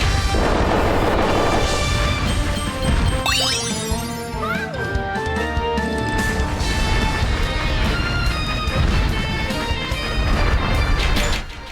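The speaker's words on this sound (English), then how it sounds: "there is a bomb block here that you can shoot to grab one" A bomb block in Kirby and the Forgotten Land is shot and bursts in a loud crash-boom, followed by sparkling chimes and bright game music that carries on through the rest of the stretch.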